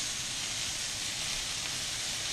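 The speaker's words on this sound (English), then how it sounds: "let's get the fire rolling on the bacon" Bacon starting to sizzle in a hot pan, a steady broadband hiss that holds close and even for a couple of seconds with no voices.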